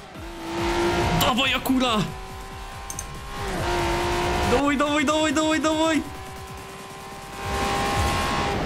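A Lamborghini Aventador racing in Forza Horizon 4, its engine revving up and down through several loud gear changes with brief tire squeals, while someone shouts excitedly over it.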